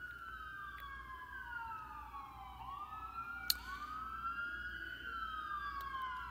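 An ambulance siren sweeps up and down in a steady wail as it passes, loud and clear over faint road noise, with one sharp click partway through.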